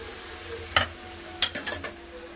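A ladle stirs curry in a cooking pan, giving a few short scraping clinks in a brief cluster against a quiet background with no talking.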